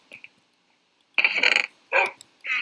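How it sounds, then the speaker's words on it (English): Several short barks from a pack of dogs in the Minecraft video game, arriving in bursts with brief gaps between them, fairly close and clear with no talking over them. "I have them, so many dogs, it's not right."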